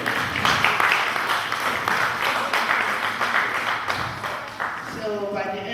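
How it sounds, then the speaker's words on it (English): Audience applause at a charity fundraiser dinner for a Sierra Leone children's association, steady clapping filling the room for several seconds, with voices and chatter mixed in and a brief tonal sound near the end. "let's give her a round of applause for her hard work"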